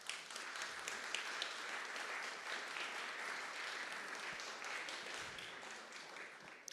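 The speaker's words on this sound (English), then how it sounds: "If we could just have a round of applause for Ken Brown and Steve Ruby" Sustained audience applause at an awards night for innovation and entrepreneurship, honoring two coaches: a dense, even wash of many hands clapping throughout, steady and moderately distant, with no talking.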